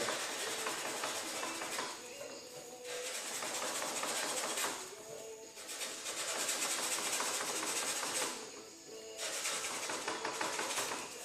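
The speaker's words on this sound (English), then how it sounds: "So I'm going to take a piece of 180 and just sand that out until I get it feathered back" A paint chip on a 2010 Honda Civic sedan fender is worked with 180-grit sandpaper by hand, making rough, hissing back-and-forth rubbing strokes in several sustained bursts separated by short pauses.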